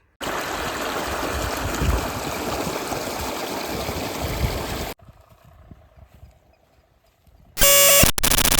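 Water gushes into a farm irrigation channel in a cumin field, a steady close rushing flow for about five seconds, then near quiet with a faint hum, before a sudden loud burst of noise at the end.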